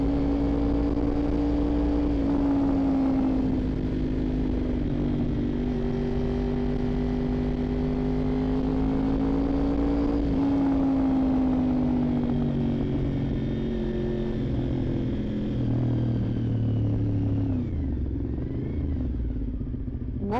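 Close, loud running of a Honda VFR 750 motorcycle engine, holding a steady throb with gentle swells in pitch and then a rev that drops away near the end, with no voices.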